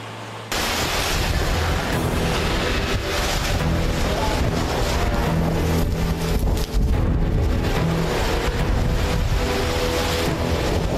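Super Typhoon Leon roars along the seaside in Cagayan, Philippines: continuous loud wind buffeting and crashing surf, a dense unbroken rush with gusty bursts and no clear voices.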